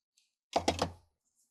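A short cluster of three quick cutting snips as paper is trimmed for a junk journal, close and crisp, with near-silence before and after.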